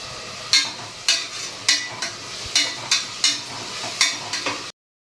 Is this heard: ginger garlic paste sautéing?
yes